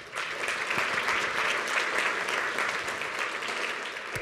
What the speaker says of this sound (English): All these guys, give them a round of applause.